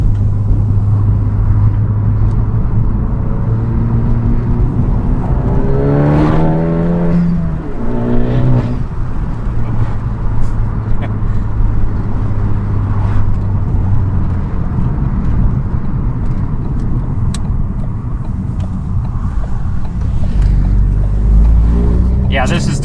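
A Ford Focus ST with an aftermarket catback exhaust, heard from inside with the windows down: a loud, steady engine drone with a couple of rising revs midway, under road and wind rush.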